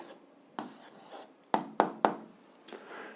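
Pen or pencil writing an answer to an algebra exercise on paper, a few quiet scratchy strokes with three sharper taps in the middle, close and faint, no talking.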